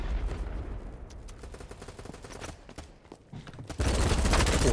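Gunfire in the video game Battlebit: rapid automatic bursts and scattered shots crackle throughout, with a loud, dense volley breaking out near the end.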